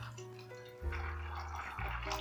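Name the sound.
water poured onto salted groundnuts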